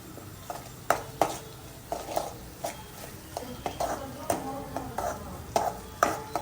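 A spoon scrapes and knocks against a pan stirring pav bhaji with pav bhaji masala in a steady, repeated rhythm, with faint sizzling underneath.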